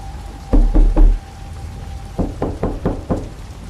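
Loud knocks on a wooden door inside a house: a group of three sharp close raps, a pause, then a quicker series of five more thuds, heard alone over faint rain.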